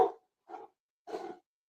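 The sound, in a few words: dogs barking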